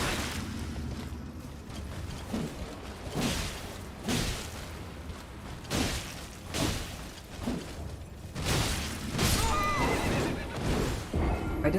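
Torrent, the spectral steed in Elden Ring, galloping with steady clip-clop hoofbeats and several loud neighs and whinnies, punctuated by combat impacts and bursts during a mounted fight.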